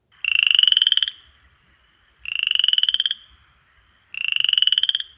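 A green frog calls in three separate bursts of rapid trilling croaks, each lasting about a second with even pauses between them. The calls are loud and close, with no other sound around them.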